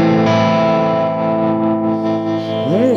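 Cort KX508 eight-string electric guitar played through heavy distortion, a loud sustained low chord ringing with thick overtones, ending in quick bending notes, no talking.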